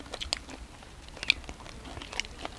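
Crunchy chewing and biting on crispy deep-fried moulting insects, close up, with repeated crackly bites in an irregular rhythm, no talking.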